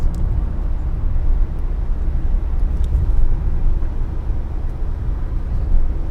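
A van cruises along a road at night at about 50, a steady low rumble of engine and tyre noise that holds evenly throughout with no talk.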